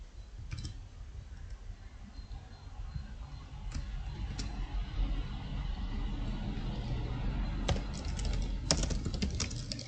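Python code being typed on a computer keyboard, with steady soft key clicks continuing throughout and a few sharper taps near the end, set against a low room hum.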